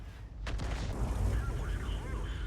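An M53/M55 self-propelled artillery gun fires in a tank video game: a sudden deep boom followed by a rolling rumble and echoing tail, heard fairly quietly beneath a commentator's voice.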